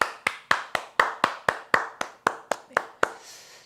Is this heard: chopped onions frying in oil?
no